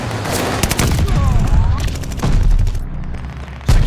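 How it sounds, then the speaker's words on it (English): Friendly bombing run in Call of Duty: Vanguard multiplayer Domination, a loud continuous barrage of blasts and gunfire with heavy low rumble, including a sharp burst near the end, with faint voice in the mix. "Friendly bombing run on the way."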